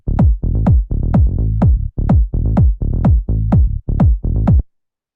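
Tech house bassline with a kick drum: a loud, steady four-on-the-floor thump with deep bass notes pulsing between each hit, dense and punchy with no voices.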